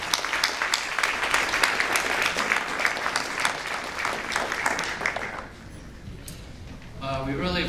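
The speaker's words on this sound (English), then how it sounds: "I'd like to give Mike a round of applause for helping us get this" An audience at a hall of fame induction ceremony gives a sponsor, State Farm agent Mike Jordan, a dense round of applause that fades out after about five seconds, and then a voice starts talking.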